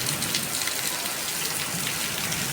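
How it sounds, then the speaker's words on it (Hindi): Heavy rain pours down steadily, a dense, constant hiss that stays at an even level throughout, heard close with no talking. "कितनी ज़बरदस्त माशाल्लाह माशाल्लाह बारिश हो रही है"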